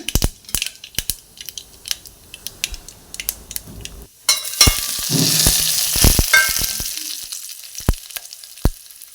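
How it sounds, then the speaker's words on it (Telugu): Scattered sharp pops and crackles, then a loud burst of hot-oil sizzling lasting a few seconds before fading back to sporadic popping, as mustard seeds, cumin, dried red chillies and curry leaves are tempered in oil. "ఇప్పుడు తాలింపు పెట్టుకోవడమే ఈ తాలింపు నార్మల్ తాలింపు లాగే ఆవాలు జీలకర్ర తెల్లబాయలు ఎండుమిర్చి కరివేపాకు"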